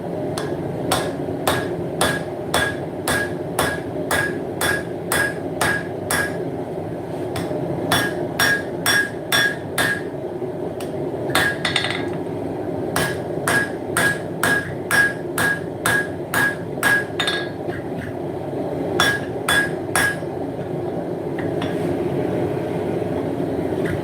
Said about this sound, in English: Want to start profiling that with the hammer itself